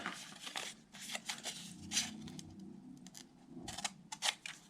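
Scissors snip through quilling paper in a quick series of close, crisp cuts, soft and near, with small rustles of paper between the snips.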